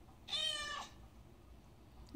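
A single drawn-out cat meow with clear harmonic tones, lasting about half a second, close and fairly loud in an otherwise quiet indoor room.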